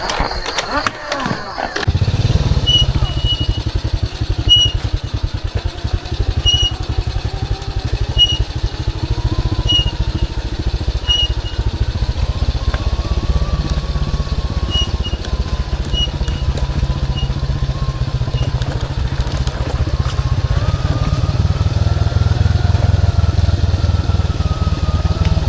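A father's motorcycle starts up and runs steadily near a chili garden, a loud, continuous engine rumble with a faint rhythmic ticking, and a person's voice talking over it throughout.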